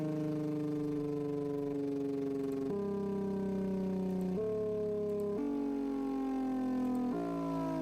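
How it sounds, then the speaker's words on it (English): A simulated car engine in an engine simulator runs in engine braking, a steady buzzy drone whose pitch steps down and slowly rises again several times, continuous and close with no talking. "So here's engine braking, ignition or not,"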